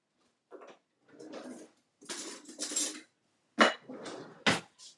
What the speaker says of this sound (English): Now I need to grab a spoon